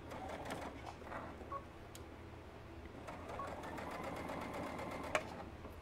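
A sewing machine stitching fabric for a plush stuffed horse toy, running in bursts of rapid needle clatter with brief pauses and a small click, close and fairly quiet, no talk.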